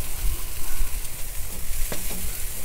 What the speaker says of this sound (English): I'm just trying to get these wings done.